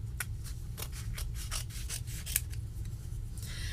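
Scissors snipping cardstock for a handmade graduation card, a quick series of close, crisp cuts in an irregular rhythm, with no talking.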